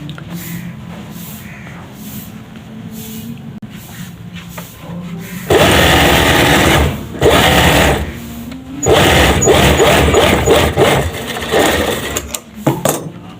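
Sewing machine stitching fabric for a gents suit, loud rapid mechanical whirring in two long bursts separated by short pauses, after quieter handling sounds at the start.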